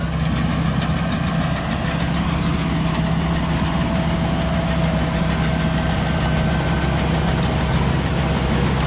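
A rice combine harvester engine runs loud and steady during the harvest of tall RD77 rice. It drones and rumbles at a constant level without letup, and no voices are heard.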